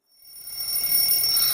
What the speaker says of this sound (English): Morning, 5:30, the alarm bell rings.